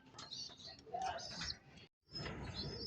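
Birds chirping and tweeting nearby, bright calls overlapping steadily with a brief pause, some pigeon-like cooing mixed in.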